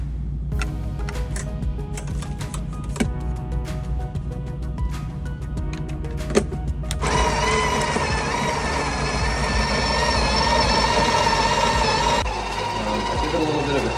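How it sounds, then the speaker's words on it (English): A Breville espresso machine's built-in grinder runs, grinding coffee into a portafilter with a steady loud whir for several seconds after some clicking of the portafilter being set in place. "ready to grind, you just stick the portafilter in here"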